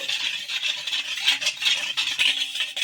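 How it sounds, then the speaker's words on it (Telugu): Salt and sugar being stirred into hot water in a bowl, a steady scraping swirl that runs without pause and stays fairly close, with no voices. "రుచికి సరిపడినంత ఉప్పు అలాగే కొంచెం షుగర్ అయితే వేసుకొని ఒకసారి మొత్తం కలిపేసుకోవాలి"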